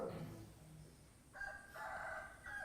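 A rooster crowing in the distance, one drawn-out call fading in partway through behind a faint low voice.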